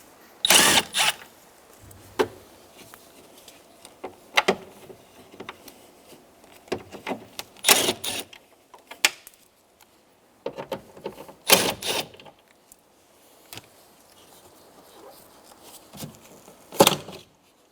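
A 10mm socket on a ratchet backs out the speaker bolts inside a 2000-2006 Toyota Tundra door, heard as several sharp, close bursts of rapid ratcheting clicks separated by quiet pauses.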